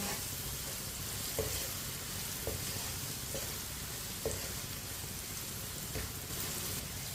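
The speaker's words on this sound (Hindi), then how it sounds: "आधे मिनट के लिए कम आंच पे जरूर फ्राई करना।" Chilies and spices frying on low heat in a pan for bhindi fry, a steady soft sizzle throughout with faint occasional stirring clicks, close and without talk.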